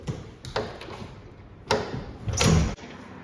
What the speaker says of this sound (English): and when I open the door